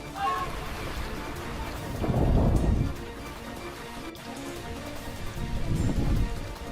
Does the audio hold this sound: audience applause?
no